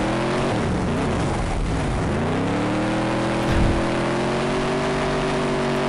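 Dirt track sprint car engine in the video game DTR: Sprint Cars, a loud, steady, buzzing drone that dips and then climbs in pitch as the car accelerates, with no talk.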